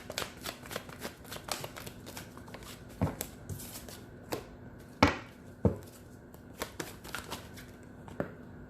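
Oracle cards are shuffled by hand for a reading, soft riffling flicks and taps in quick irregular bursts, fairly quiet and close.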